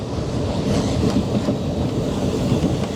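A passenger train runs on its rails with a steady, close rumble and faint rhythmic clatter of wheels, heard from inside the carriage with no talk.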